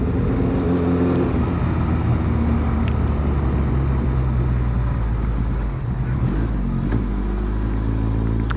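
A Honda Blackbird CBR1100XX motorcycle cruising gently at about 2,000 revs, heard as a steady low engine drone mixed with wind rush from the rider's position and a faint muffled voice at times.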